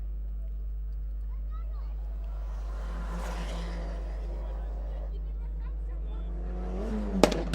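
Rallycross race cars run the start-finish straight at a Kenyan event, one engine swelling as it passes in the middle and then fading, heard at a distance over a constant low rumble, with a sharp clatter near the end.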